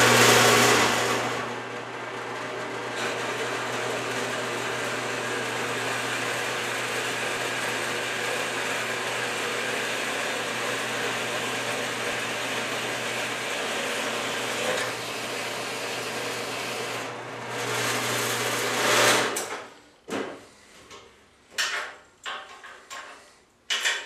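A milling machine takes a cut on a metal tapping block, a steady loud whirring drone with a low hum running for about nineteen seconds, then stopping and giving way to a few scattered clinks and clunks.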